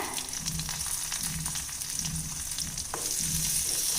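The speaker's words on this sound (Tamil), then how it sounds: "இப்போ இதை நல்லா வதக்கி விட்டுறலாங்க" Green chillies and cumin sautéing in hot oil for a tempering, a steady close sizzle with occasional stirring scrapes throughout.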